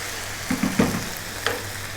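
Beef curry frying in a pan gives a low, steady hiss, with a few short clinks and scrapes from stirring clustered in the middle.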